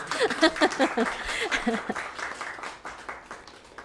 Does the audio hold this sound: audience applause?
yes